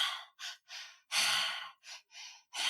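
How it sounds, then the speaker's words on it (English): Breathwork breathing in a repeating pattern of two quick inhales and one longer exhale gives a series of close, breathy bursts separated by short silences, with no talking. "So, the breath is 2 breaths in and 1 breath out."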